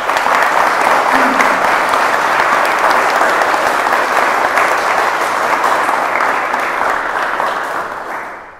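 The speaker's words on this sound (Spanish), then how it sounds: "La felicitamos con un fuerte aplauso." A church congregation at a quinceañera Mass bursts into sustained, dense applause that fills the space evenly for several seconds before fading out at the end, with no talking over it.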